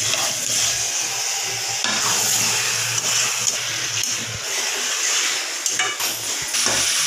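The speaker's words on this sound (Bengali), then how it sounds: "তো দেখো বন্ধুরা ভালোভাবে আমি এটাকে ভালোভাবে নাড়িয়ে দিচ্ছি।" Chicken masala curry is stirred in a pot over steady, loud frying and sizzling, with scraping strokes recurring irregularly throughout.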